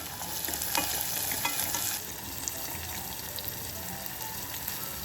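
Chopped onion and tomato fry in a pan with cinnamon and a bay leaf while being stirred, a steady close sizzle with light scraping that eases slightly partway through.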